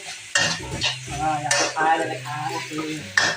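Brisk stirring and scraping of instant noodles in a hot pan over high heat with sizzling underneath, utensils clinking in quick irregular strokes.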